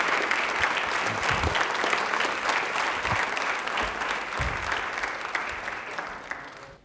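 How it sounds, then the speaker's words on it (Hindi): Enthusiastic studio audience applause on a televised quiz show, thick continuous clapping for several seconds with occasional sharper claps, fading out abruptly at the end. "तालियां एक बार बजा दीजिए इनके लिए जोरदार वाली"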